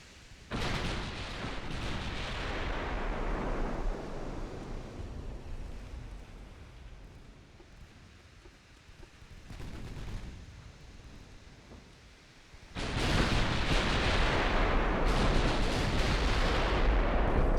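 Warship 6-inch and 14-inch naval guns firing in the Ultimate Admiral Dreadnoughts naval battle game: loud booming salvos that roll away over a quieter stretch of sea and wind, then a heavy renewed barrage near the end.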